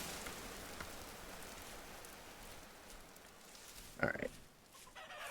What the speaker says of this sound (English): Found a whole flock of chickens over here